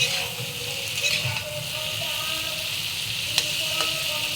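Chilies fry in a pan with a soft, steady sizzle, fairly quiet and close, with faint clinks and stirring touches scattered through.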